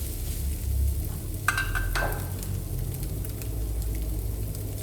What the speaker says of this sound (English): Add carrot, stir, and scrape the egg from the bottom of the pan